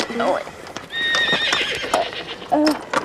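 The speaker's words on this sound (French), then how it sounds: "C'est les chevaux." Horses neigh and whinny nearby during the 1992 Raid Gauloises adventure race in the Sultanate of Oman, with several whinnies across a few seconds, hoof clatter and people talking alongside.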